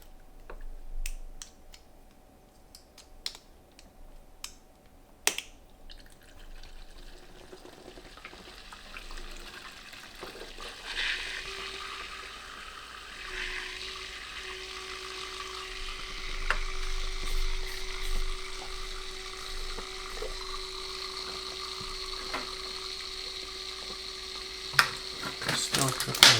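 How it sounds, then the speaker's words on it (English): Water drips near an old D5 pump in a bucket-based water-cooling setup for a 9800X3D CPU, sounding as sparse, irregular faint clicks over a low steady pump hum, with a quiet tone entering partway through. "Still dripping water."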